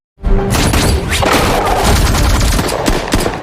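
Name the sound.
gunfire in a film scene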